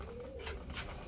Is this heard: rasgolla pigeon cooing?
yes